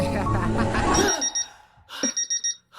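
Under a voice, a small alarm clock starts beeping, then sounds alone as a rapid series of short, bright beeps.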